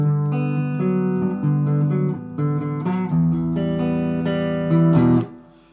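Electric guitar playing a bridge riff, sustained harmonically rich chords shifting every beat or so, loud and close with no voices, ending in a brief swell before fading out.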